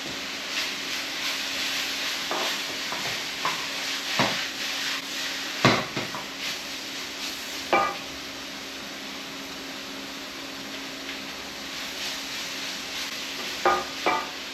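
Onions and chilli hit a hot pan for pork belly chilli noodles, producing a steady hiss and sizzle broken by several sharp scraping strokes of a utensil against the pan.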